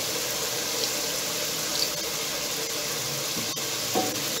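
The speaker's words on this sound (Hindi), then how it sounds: "और इसको थोड़ा सा पानी लगा देंगे" Water hitting a pot of meat masala made with red chilli and ground coriander, giving a soft, steady sizzle and hiss throughout, with a few small clinks and bubbles and no voices.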